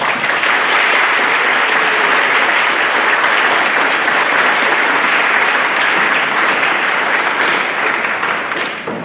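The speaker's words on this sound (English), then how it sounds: "If we could give them and all of our inductees a hand" Audience applause for National Honor Society inductees, a loud, dense and sustained clapping from a large crowd filling the room, holding steady before tapering slightly at the end.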